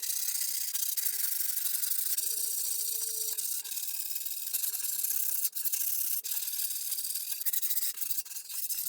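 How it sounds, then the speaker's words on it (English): Grip tape edges on a skateboard being sanded, a steady close scraping rub that runs continuously with brief dips, no talking. "That's to sand around the edges."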